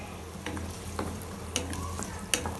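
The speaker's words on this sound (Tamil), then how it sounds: "வெங்காயத்தை நல்லா வதங்க விடுங்க." Soft, steady sizzling of chopped onion sautéing in oil in a pan, with a few scraping stirs and light clicks of a utensil against the pan.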